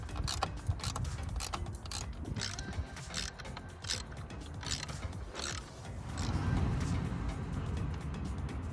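A T30 Torx driver backing bolts out of the coil pack on a Mini Cooper S R53 JCW engine, close mechanical ratcheting clicks in bursts with faint handling noise between them.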